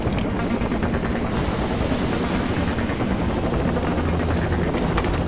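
Steady, loud helicopter rotor drone and engine whine from the Rainbow Six Vegas game, filling the clip without pause and with no talking over it.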